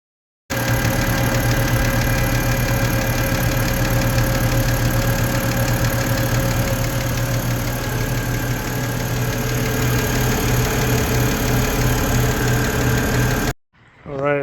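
A BMW E90 engine running at a steady idle after thermostat, coolant hose and oil filter housing gasket work. It gives a loud, even hum and drone with rhythmic ticking, alone, and cuts off abruptly near the end.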